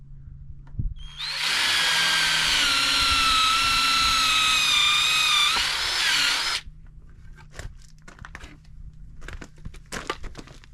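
A power drill whines steadily for about five seconds, driving self-tapping screws into wooden framing inside a Ford Transit Custom camper van, loud and close, then stops and leaves faint knocks and room noise.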